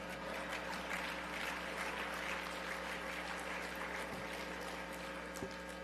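A large breakfast audience applauds at a commemorative gathering, a dense even wash of clapping holding steady at moderate distance over a constant low hum.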